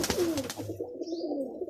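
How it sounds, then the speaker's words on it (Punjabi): A rooftop pigeon in Jhelum gives a short, close, soft cooing call, a low throaty warble that fades over under two seconds. "ਇਹ ਛੱਤ ਵਾਲਾ ਕਬੂਤਰ ਬੋਲਦਾ ਪਿਆ"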